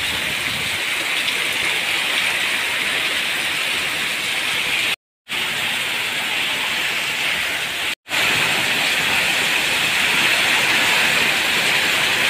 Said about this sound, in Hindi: बारिश पै रही है